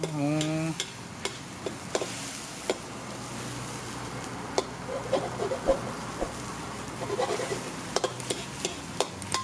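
Garlic and green chilies frying in hot oil in a street-stall wok for stir-fried holy basil: a steady close sizzle runs throughout, broken by sharp spatula clanks and stirring scrapes at irregular intervals.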